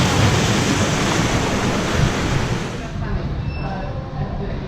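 Ocean surf rolls and washes onto the beach at Hua Hin, Thailand, a loud broad rush with wind buffeting the microphone, easing slightly toward the end.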